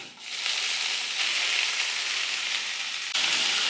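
Bamboo shoots hit a pan of browned onion, garlic and ginger, bursting into a loud, continuous sizzle of frying oil that holds steady for a few seconds with a brief jump near the end.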